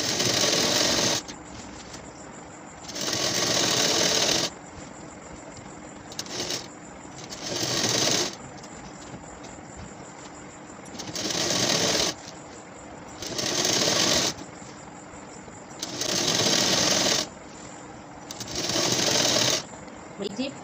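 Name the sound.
sewing machine stitching falls border onto a saree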